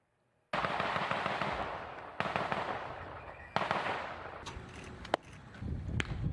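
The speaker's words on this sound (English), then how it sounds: "These are the moments when you could hear that gunfire." Several loud bursts of rapid gunfire ring out, some distant and echoing, separated by brief pauses, with a sharp single crack near the end.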